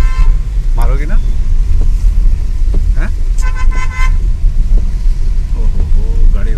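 A car horn honks from a vehicle behind in rainy road traffic, giving a couple of short toots over a steady engine and road rumble while people talk.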